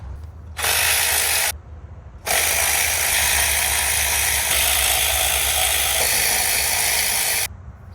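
A ratchet wrench works on the intake manifold of a Mk1 VW Rabbit, its pawl clicking in loud, continuous rapid bursts close up, broken by two brief pauses.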